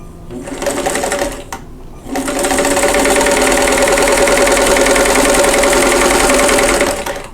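A sewing machine stitches quilt block pieces in a loud, close, rapid mechanical whir, pausing briefly after a short first run, then running continuously for about five seconds before stopping.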